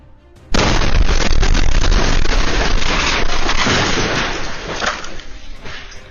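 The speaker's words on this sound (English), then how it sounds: "An explosion at a food cart pod in southeast Portland damaged multiple food trucks and nearby buildings." A sudden loud explosion at a food cart pod in southeast Portland erupts as a broadband blast, followed by a sustained roaring rush that slowly fades over several seconds.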